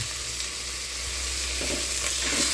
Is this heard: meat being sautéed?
yes